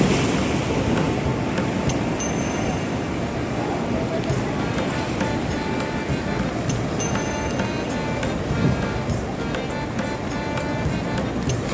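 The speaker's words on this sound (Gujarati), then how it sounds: "આ ગોમતી ઘાટ છે। આગળ જુઓ મોજા ઉછળે આવે।" Waves surge and break at Gomti Ghat in Dwarka during rain, a steady rushing wash of surf with gusty wind noise across the microphone throughout.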